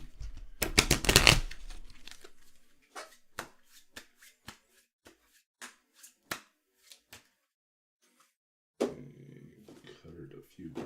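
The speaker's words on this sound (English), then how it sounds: "So we're going to shuffle our cards once more." A deck of playing cards is riffle-shuffled in a quick burst, followed by a string of separate card snaps and taps spaced out across several seconds, then a soft rustle near the end.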